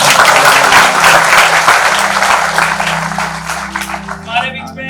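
Loud applause from a seminar audience, with steady close clapping that gradually thins out and tapers off toward the end.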